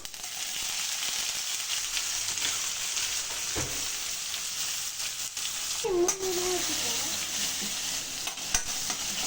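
Cumin and chana dal fry in a pan as chopped onion is added, a steady close sizzle with spoon stirring and scraping, a brief low thump, then a louder crackling burst partway through.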